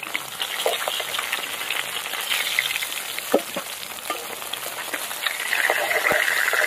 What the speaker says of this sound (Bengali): মাছ ভাজা হয়ে গেছে, তুলে নেবো এবার।